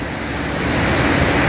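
A powerful, churning river current surges through a hilly valley toward the Yamuna, its roar steady and loud from start to finish with no voices.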